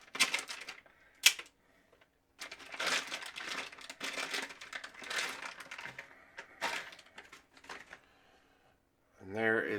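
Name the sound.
riflescope magnifier taken out of a plastic bag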